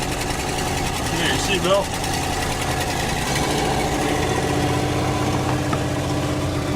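A Dodge Ramcharger in partly disassembled condition runs steadily with a close, rough, throbbing engine note throughout, while someone talks briefly over it.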